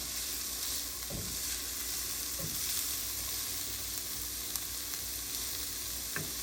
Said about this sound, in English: You just want to saute for a few minutes and get them cooked a little bit